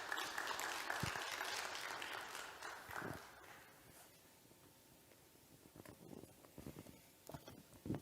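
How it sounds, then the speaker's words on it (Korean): An audience in a seminar hall welcomes a speaker with applause. The clapping is fairly loud at first and thins out to scattered claps, with faint footsteps as the speaker walks up. "박수로 환영해 주시기 바랍니다"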